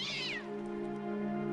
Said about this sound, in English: You're foiled by a cat.